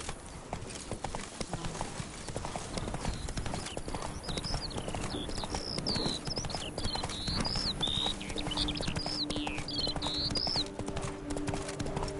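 Roach the horse walks in Witcher 3 with a steady clip-clop of hooves, moderately close, while bird chirps and ambient game sounds play underneath.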